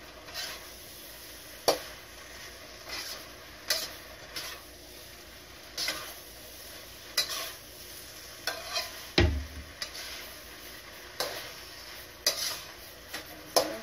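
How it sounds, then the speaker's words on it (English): Nipa cabbage chopsuey with shrimp being stirred in a pan, a spatula scraping and clinking in scattered strokes over a soft, steady sizzle, with no voices. "keep stirring it."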